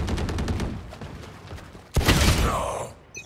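Sheriff pistol shots from the shooter game Valorant: a few sharp, spaced reports, then a much louder, close blast that rings out and fades, with no talking.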